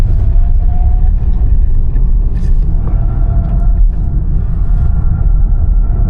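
A Tesla Model Y Dual Motor run at full throttle, then braked hard during a figure-eight handling test with traction control disabled, gives a steady loud low rumble of road and cabin noise, with faint whine tones and no talk.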